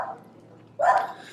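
Two dogs at home give a short bark or yelp, sharp and fairly near, following a quieter whimpering sound at the start, with no speech.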